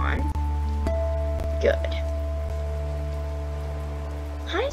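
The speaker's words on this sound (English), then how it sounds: "It's raining." Rain falling in the video game Wolf Quest 3, a soft, continuous patter under a steady humming tone, with a brief spoken word and faint chirps.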